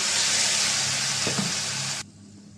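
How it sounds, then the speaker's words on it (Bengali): A loud hissing sizzle rises as water hits frying onion and spices in an oiled pan, with a brief stir-scrape, then cuts off abruptly near the end. "মশলা কষানোর জন্য পানি দিয়ে দিলাম"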